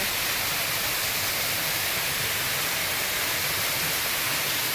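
Steady, broad rushing roar of a waterfall at Lake Agco, constant and fairly loud throughout with no voices.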